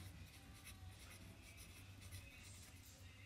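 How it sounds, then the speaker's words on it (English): A pen scratches across paper in steady, quiet writing strokes, faint and continuous against a low background hum. "Let me write this down."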